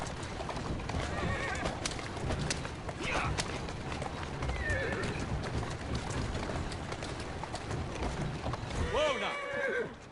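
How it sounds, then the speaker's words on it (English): Horse neighing and hooves clip-clopping in Assassin's Creed Syndicate while a carriage moves along, steady hoofbeats throughout with whinnies and bird calls, and occasional voices over the top. "Whoa, now! Who's a good horse?"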